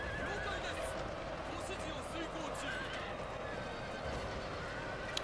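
Horses neigh and whinny amid hooves and battle noise in the video game Total War, a long shrill call over a dense rumbling din, with a voice talking underneath.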